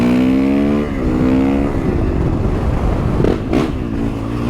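A new motorcycle accelerates hard without the clutch, its engine note climbing and then dropping as it shifts, followed by a sustained loud roar with a brief whoosh near the end.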